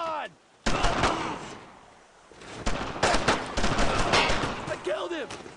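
Gunfire in Brothers in Arms: Road to Hill 30 breaks into rapid bursts of rifle and machine-gun shots after a short lull, loud and layered, with shouted voices over the shooting.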